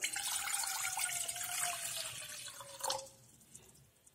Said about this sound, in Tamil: இதில் நம்ம தண்ணி ஊற்றிக்கலாம்.